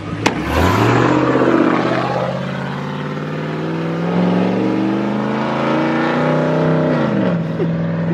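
A truck with its exhaust resonator deleted revs hard and holds a loud, raspy drone that rises and falls, close by and dominating throughout.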